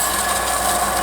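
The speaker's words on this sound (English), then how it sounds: "keep running the lathe at" A wood lathe spinning around 500 to 600 RPM while a pen is sanded from a scalloped blank, producing a steady close whirring hum with a constant rubbing hiss.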